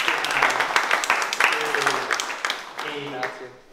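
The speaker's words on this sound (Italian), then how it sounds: "loro sono i fabbri di Sappada che meritano un applauso che io glielo faccio io" An audience applauds the blacksmiths of Sappada at a book presentation in Laggio di Cadore, a dense patter of many hands clapping at close range, with voices speaking over it as it fades.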